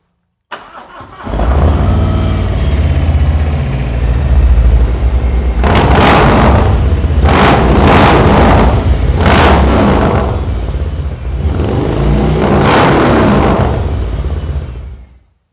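A loud Milwaukee 8 bagger motorcycle with an S&S Sidewinder exhaust fires up and idles with a deep rumble, then revs hard several times in succession, close by.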